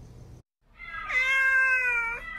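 A wounded stray cat, shot with an arrow and taken into a shelter, gives a single loud, drawn-out meow up close after a short muffled sound and a moment of silence.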